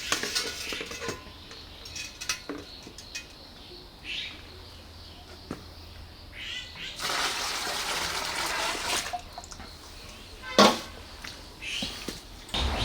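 Fresh white-wine grape juice gushes steadily out of a wine press as pressure builds, a continuous close splashing and trickling into a tank, with occasional clinks and knocks of equipment.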